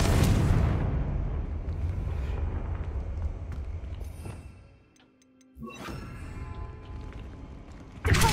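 Confringo fire spell explosion in Hogwarts Legacy: a loud, broad rumbling blast that sustains and fades over several seconds, a short near-silent gap, then further crackling impacts and a sudden loud burst at the end.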